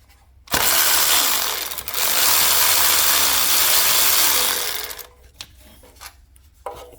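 Continuous rasping ratchet clicks from a socket wrench turning a 12mm thermostat housing bolt on a Mazda 323 Protege engine, steady and close for about four seconds, then trailing off into faint shuffling.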